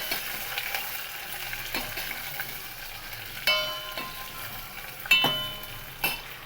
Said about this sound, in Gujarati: રાઈ તતરી જાય એટલે તેમાં મરચાં નાખી દેવાના છે. મરચાંને થોડાક સાંતળી લેવાના છે.